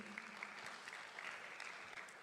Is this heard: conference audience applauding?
yes